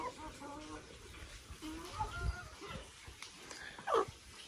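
A GSB and giant Indian crossbreed hen clucks close by, a few short calls over a low rustling background with one sharper squawk near the end.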